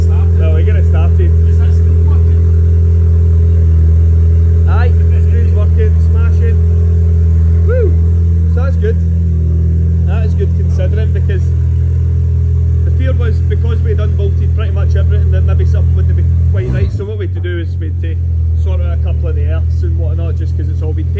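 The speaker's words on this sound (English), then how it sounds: "Having the car running was a major step forward." A Mk4 Ford Focus ST engine idles steadily up close, its deep, even hum running throughout with some voices in the background.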